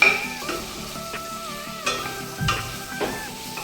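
Mango pickle (raw mango pieces) being stirred and mixed by hand in a pot, with close, wet scraping and clinking strokes recurring every second or so, fairly loud with no talk.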